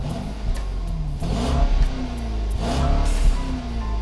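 2019 Mercedes-Benz S 560 4MATIC with a 4-liter twin-turbo V8 revving, the engine rising and falling twice in pitch, loud and close with no talking.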